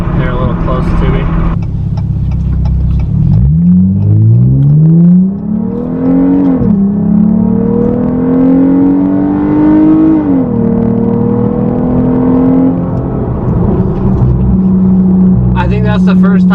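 A 2015 Chrysler 200 with the 3.6L engine and a ported throttle body pulls away hard from a standstill, the engine note rising steadily through the revs with a shift break before climbing again, loud and close.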